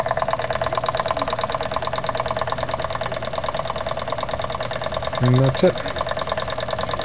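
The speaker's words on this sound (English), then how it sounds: "I finally set up my line shaft so I can drive a couple generators at once" A line shaft driven by a Jensen toy steam engine runs steadily, turning a couple of generators with a fast, even mechanical chatter and knocking that stays close and loud. Someone speaks briefly near the end.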